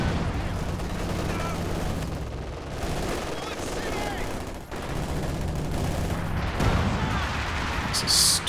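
Battle sounds from Company of Heroes 2 as a Comet tank fires white phosphorus rounds: a dense roar of gunfire and explosions that stays loud throughout, with a commentator talking over it.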